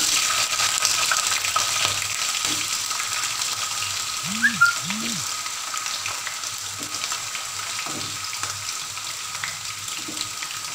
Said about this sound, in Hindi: अब मैं थोड़ा आलू को थोड़ी देर के लिए फ्राई कर लूँगी।